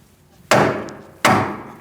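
Two sharp, loud hammer blows strike a stuck Mercedes-Benz C300 rear wheel hub through a block of wood, each followed by a short ringing decay.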